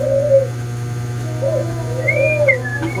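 A small dove-like bato-bato bird calls with a few soft, cooing whistled notes at a moderate distance, sitting over a steady low hum.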